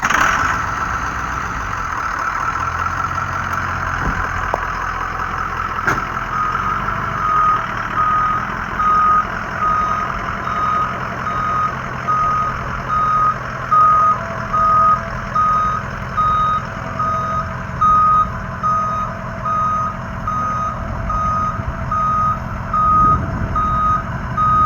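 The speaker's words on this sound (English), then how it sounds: "So let's hear this back up sound real quick." A Ford F250 turbo diesel truck runs with a steady low idle while its backup alarm sounds a loud, regular pulsing beep over and over, close by and with no talk.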